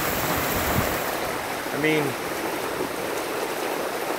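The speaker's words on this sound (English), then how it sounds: "I've never seen so much rain come down in a matter of minutes." Sudden heavy summer downpour during a storm over Peterborough, a dense continuous roar of rain hammering surfaces and running water close by, with someone talking briefly over it.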